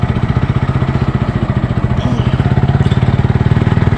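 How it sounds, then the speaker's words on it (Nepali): A motorcycle engine is heard while riding at night through Damak bazar, a loud, close, fast and even throbbing exhaust beat that holds steady throughout. "बाइक चाहिँ डेन्जर कुदाउँछ।"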